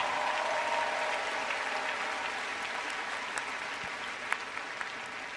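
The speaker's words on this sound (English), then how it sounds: "I want you all to give a round of applause once again for your family and friends here today" The audience at a 2023 UCLA college commencement ceremony in Pauley Pavilion claps, a dense, sustained wash of applause from a large crowd that tapers slightly toward the end.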